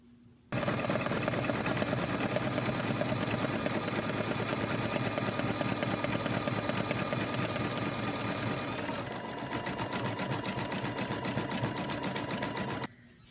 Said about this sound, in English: The next step after we trim our fabric away is the applique stitch all the way around.